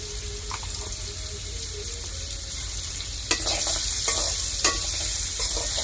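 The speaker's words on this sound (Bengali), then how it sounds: "এবার এটাকে একটু নাড়াচাড়া দেবো।" Hilsa fish and vegetables frying in a pan with salt and turmeric, a steady sizzle with scattered scraping stirs and a few sharper knocks of the utensil, no voices.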